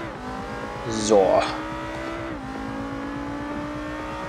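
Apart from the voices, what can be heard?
Mitsubishi Lancer Evo 8 driving in Forza Horizon 2, a video game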